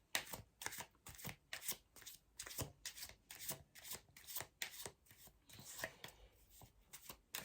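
Tarot cards are shuffled in a quick, steady riffling rhythm, a series of soft papery bursts, close but quiet.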